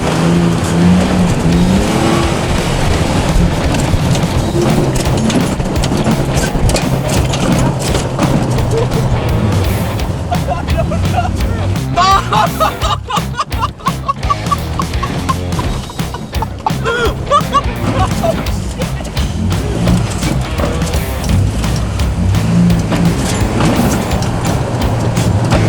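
An off-road vehicle bounces fast over a run of whoops, its engine roaring continuously loud and close with revving surges and rattling jolts, while people shout and talk over it.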